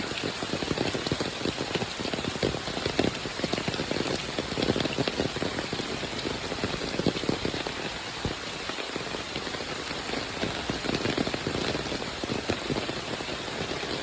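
Heavy monsoon downpour in the Konkan countryside near Waghriwadi, a dense, steady hiss of rain drumming on surfaces, loud and unbroken throughout with no voices.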